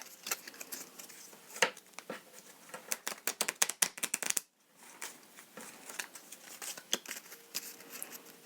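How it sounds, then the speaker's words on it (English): Crisp, rapid riffling of playing cards in a few quick bursts, a short pause, then more close-up shuffling and card slaps. "This one will be a little bit easier to shuffle,"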